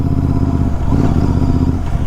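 A Royal Enfield Bear 650 motorcycle on the move, its engine giving a loud, steady, throbbing drone that runs throughout without any talking.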